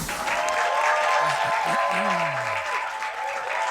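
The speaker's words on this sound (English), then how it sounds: "Please, one more time, a round of applause" A studio audience gives a round of applause on a news comedy show, a full, continuous roar of clapping that holds steady throughout, with faint tonal sounds running underneath.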